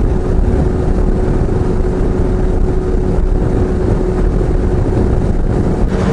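Motorcycle cruising at 100 km/h as heard from inside a jet helmet, a loud, constant low rumble of wind and road noise with no voices.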